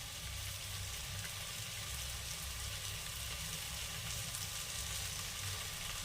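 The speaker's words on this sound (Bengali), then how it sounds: "এবার দিয়ে দেবো সস।" Vegetable pasta sauce added to a hot pan, with a steady dense sizzle of frying continuing evenly at close range and no talk over it.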